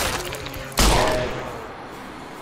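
A trench gun fires in the Roblox game Those Who Remain, a sharp loud blast standing out briefly against a busy, noisy game background.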